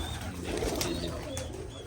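Pigeons coo softly in low, rolling calls over a steady background hum, fairly close, with faint higher chirps mixed in.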